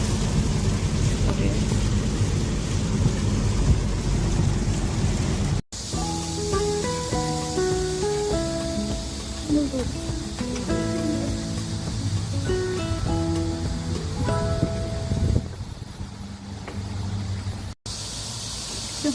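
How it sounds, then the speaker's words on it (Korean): A sudden rain shower pours outdoors at a Liberation Day 80th anniversary gathering at Nojeokbong. Steady hissing rain runs throughout, with music playing over it for much of the time. "소나기."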